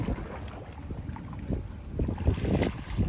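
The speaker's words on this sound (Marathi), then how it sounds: "हवा भरपूर सुटले ना आता होडी पण नाही चालत." Strong wind buffets over open water near a small boat out fishing, a steady rushing roar with gusty swells and microphone rumble, no voices.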